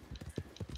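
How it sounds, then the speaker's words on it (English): Horse hooves clip-clop in a cowboy video game, a short run of regular, fairly close thuds with no talk over them. "Oh, horses!"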